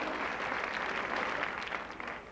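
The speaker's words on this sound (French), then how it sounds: "vous pouvez l'applaudir" An audience at a televised children's singing show applauds steadily, a dense wash of many hands clapping at a moderate distance for a couple of seconds, with no speech.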